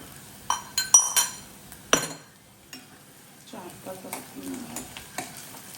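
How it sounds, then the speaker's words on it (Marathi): Garlic cloves and onion sauté in a pan, with a low sizzle beneath sharp spatula clinks and scrapes against the metal, close and intermittent. "चार पाच पाकल्या लसूण चांगला मारून झाला"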